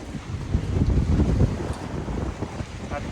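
Sailboat cutting through rough seas in 24-knot winds, a loud continuous rush of wind buffeting the microphone over surging water and wave wash.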